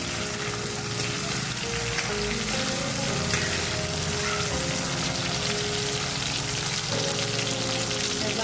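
Garlic dropped into hot oil in a pan with crackled cumin seeds, a loud, dense, continuous sizzle and spatter heard up close throughout with no voices.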